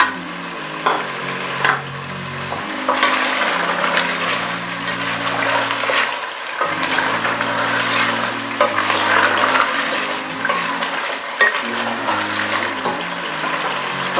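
Chicken frying with tomatoes and spices in a pan for Sindhi biryani, a bubbling, hissing sizzle with intermittent stirring scrapes and clatter, close and fairly loud, no speech.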